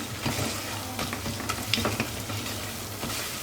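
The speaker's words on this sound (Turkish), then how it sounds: "Unun kokusu çıkana kadar kavuruyorum." Flour being toasted and stirred in a hot pan for mushroom soup, a continuous close sizzle with soft scraping strokes and small ticks layered over it, no voices.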